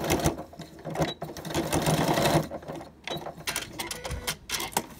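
A sewing machine runs a straight seam along bias tape in steady whirring bursts, pausing briefly near the middle and again toward the end, close and fairly loud with no talking.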